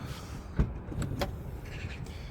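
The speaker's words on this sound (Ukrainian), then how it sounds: "Електропривід ляди, до речі, це теж доп опція." Electric power tailgate on a 2022 Jaguar I-Pace electric SUV, a short motor whir with a couple of soft clicks and thumps, close by and with no talking.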